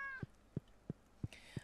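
A cat in the farming video game Stardew Valley gives a soft meow at the start and another near the end, set against a faint, steady series of five evenly spaced low thumps.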